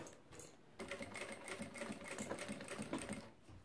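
Sewing machine stitching the fabric lining and plastic of an organizer, a fast continuous mechanical whirr that starts after a short quiet moment and runs steadily to the end.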